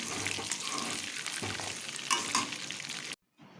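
Turmeric- and salt-coated potatoes for chicken curry frying in a pan, a dense, steady close-up sizzle with a couple of stirring knocks, cutting off abruptly near the end.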